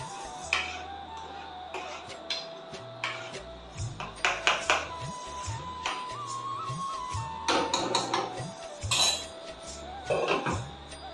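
Egg chutney being stirred in a pan on the stove, heard as repeated clinks and scrapes of a metal spoon against the pan over a steady background, close and moderately loud.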